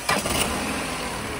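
A Renault Kwid engine after a full overhaul turns over and settles into a steady, close idle with no voices, the broadband engine noise holding evenly for the short stretch.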